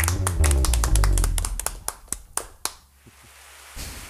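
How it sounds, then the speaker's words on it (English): A small live-show audience claps briefly: a dense burst of hand claps and taps that thins within two seconds into a few scattered, isolated claps before fading almost to quiet. "I'm asking for applause."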